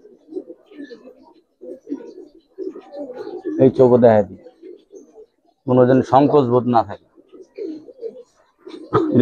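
Giribaz silver pigeons coo in two clear, close bursts of throaty rolling calls, with someone talking nearby before, between and after them.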